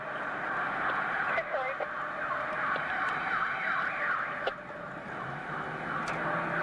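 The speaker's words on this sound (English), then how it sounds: "there are two-tone horns, and they in fact were City of London solos, motorcyclists" Two-tone horns on City of London police motorcycles warble in alternating pitches over loud, continuous engine and road noise, heard from moderately close.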